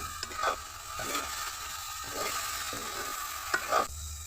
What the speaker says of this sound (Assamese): গোটেইখিনি আকৌ ভালদৰে হেতাৰে লৰাই ল'ম।